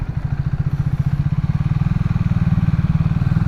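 Triumph Speed T4 motorcycle riding through a toll gate bike lane on a highway, its engine thumping in a fast, steady pulse close and loud, with no talk.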